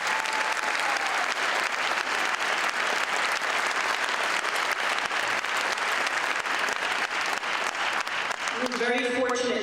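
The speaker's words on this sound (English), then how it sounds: "you can applaud them" Sustained audience applause for a university band at a concert, dense and steady clapping throughout, with a few voices rising near the end.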